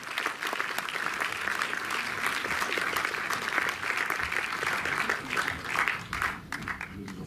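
Audience applause at the closing ceremony of the Montreuil film festival, a dense, steady clapping from a full room that carries on without a break for over seven seconds and thins slightly toward the end.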